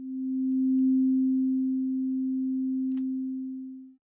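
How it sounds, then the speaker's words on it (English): A single synthesiser key press shaped by an ADSR envelope: a pure low sine-like tone swells in, settles and holds steady for about four seconds, then fades out as the key is released. "And now we can try out our ADSR envelope."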